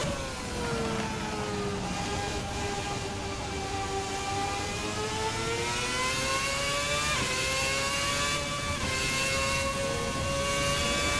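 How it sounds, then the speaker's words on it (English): A Formula 2010 V8 race car engine in a racing sim screams at high revs, its pitch climbing and dipping as the rear wheels spin in third gear, loud and continuous with no voices. "Definitely getting wheel spin in third gear as we get back on the throttle."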